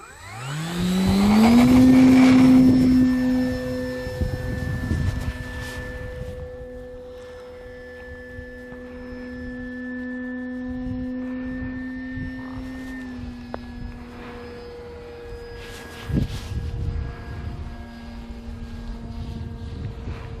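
Radio-controlled E-Flite 2-meter Cessna 150 model airplane flying on a windy day, its electric motor a steady droning whine that rises sharply at the start and then holds, with wind buffeting throughout.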